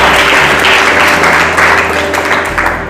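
A church congregation claps together to glorify the Lord, a loud, dense wash of applause that holds steady for the whole stretch and thins slightly near the end.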